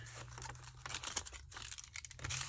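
Paper envelope tucked into a botanical journal being handled and flipped, giving close, continuous crinkling and rustling with short tearing-like crackles throughout.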